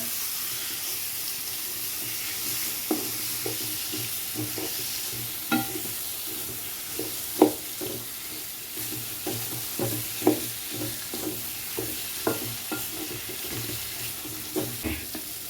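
Elephant foot yam fries in oil under a steady sizzle, with regular scraping thumps of a spatula stirring the pan, close up and with no talking.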